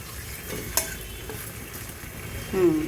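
Chicken pulao masala with three green chillies sautéing over a very low flame, a soft even sizzle with a couple of sharp utensil clinks and a scrape near the end.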